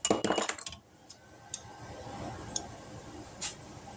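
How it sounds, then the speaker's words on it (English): Tin snips cut through a copper pipe bus bar: a close burst of sharp metallic clicks and snaps in the first moment, then a few isolated faint ticks over quiet. "just taking tin snips, I will be able to cut it away"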